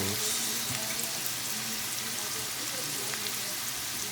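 Vegan potato soup ingredients cook in a pot with a continuous soft sizzle and hiss, an even, close bubbling texture that holds steady throughout, with faint voices in the background.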